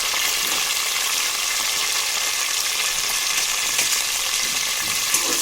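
Curry leaves crackle in hot oil with a steady, dense sizzle that holds loud and even throughout, a few sharper pops near the end, no talking.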